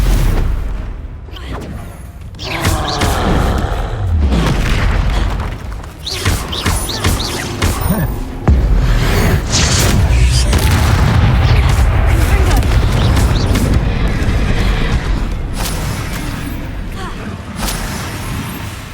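Confringo blasting spells explode in the Hogwarts Legacy video game as a run of loud, deep booms and rumbling blasts, densely packed throughout a chaotic battle soundscape.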